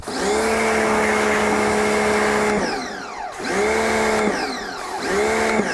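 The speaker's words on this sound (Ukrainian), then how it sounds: "зверніть увагу на звук, який видає нам наша мийка" A 2E HPW2015 mini pressure washer motor drones steadily and loudly, dipping and surging twice as the pump cycles, with no talking.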